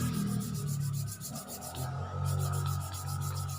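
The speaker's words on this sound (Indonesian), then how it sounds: "kita gosok dengan menggunakan amplas" Sandpaper rubs steadily against a part of a laminating machine during servicing, a rhythmic close scraping of repeated strokes with a brief pause midway, and no speech.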